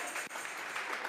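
A church congregation applauding in worship, a dense steady wash of clapping that fills the short moment without pause.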